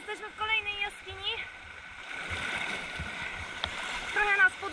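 Waves surging in and out of a sea cave on Zakynthos, with icy water churning and splashing at moderate volume beneath people talking nearby.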